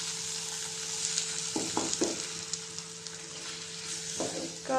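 Egg frying in a pan gives a steady broadband sizzle, with a few short scraping stirs of a utensil at the start and near the end and no talk.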